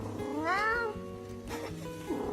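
A cat outside a house gives a clear, close meow with a rising-falling pitch, followed by a shorter softer meow a moment later, heard alone with no talking.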